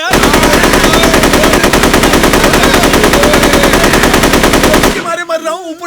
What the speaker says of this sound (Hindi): ऊपर से तुम लोग गोली चला रहे हो